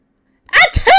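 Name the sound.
character sneezing in Phoenix Wright: Ace Attorney video game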